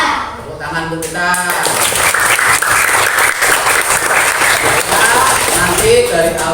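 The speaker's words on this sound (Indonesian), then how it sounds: "Tepuk tangan untuk kita." A school class breaks into loud, dense applause after the teacher's greeting, clapping and cheering steadily for several seconds, with a voice heard briefly at the start and again at the very end.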